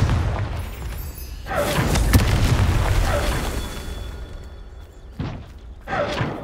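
Confringo blasting curse explosions from Hogwarts Legacy: a heavy, rumbling boom that rolls on for a few seconds, then two shorter, sharper blasts close together.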